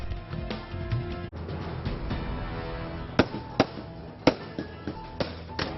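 Fireworks crack and pop at a Kashmir accession day celebration, with a dense crackling burst at first, then several sharp, distinct bangs at irregular intervals over a continuous background of distant crackle.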